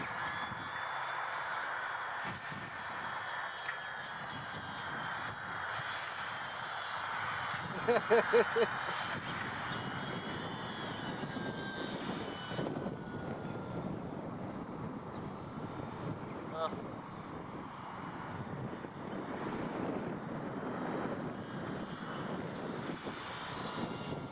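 A small UMX Pitts RC model airplane flies outdoors in gusty, erratic wind, its faint electric motor whine rising and falling at a distance under wind rumble, while someone talks over it.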